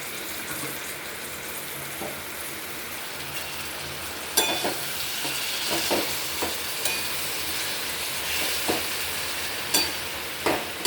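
Dried prawns (kolbi) hitting a hot pan for a Konkan dry prawn curry, a steady sizzle that jumps louder midway, then is punctuated by scraping stirs and clinks of a spoon.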